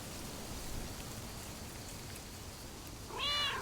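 A cat in the Lake video game gives a single short meow near the end, heard over a steady wash of rain.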